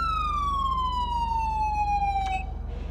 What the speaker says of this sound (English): now we also have an auxiliary siren, and that's number 6